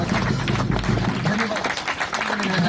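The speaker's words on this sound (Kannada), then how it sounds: "ಜೋರಾದ ಚಪ್ಪಾಳೆ ನೀಡ್ತಾ ಇದ್ದಾರೆ." A crowd claps loudly and steadily at a police-department anti-drug awareness run in Koppal, with voices talking over the applause.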